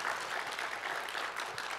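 A church congregation at a Sunday evening service breaks into steady, dense applause, many hands clapping together at a moderate distance, with a faint murmur underneath.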